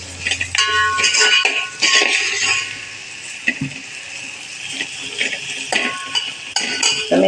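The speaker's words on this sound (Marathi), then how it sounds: "गॅसवर कांदा चांगला परतून शिजवून घेणार आहे" Onion being sautéed in a pan on a gas stove for Marathi moong dal pithla, a continuous close sizzle broken by metallic scraping and clinking of a spoon against the pan, with no talk.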